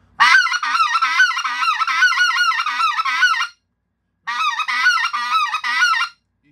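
Specklebelly goose call blown in two long strings of rapid, rhythmic yodeling clucks, close and loud, with a short pause between the runs and no talking.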